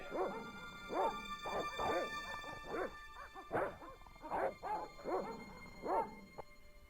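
Dogs bark in Broken Sword: The Shadow of the Templars, a steady run of about eight or nine yapping barks and whimpers with some echo, fairly close and with no talk over them.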